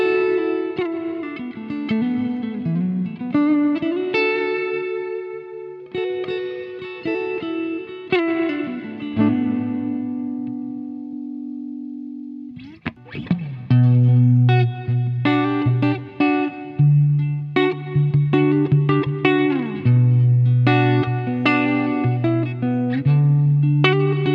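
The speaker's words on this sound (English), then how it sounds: "We're jumping to preset 8, which is a Bricasti M7" An electric guitar rings out through a POLY Verbs reverb pedal set to a Bricasti M7 preset, sustained chords and single notes blooming into long lush tails, loud and close with no voices.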